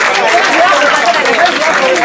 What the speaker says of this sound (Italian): Le salutiamo con un fragoroso applauso.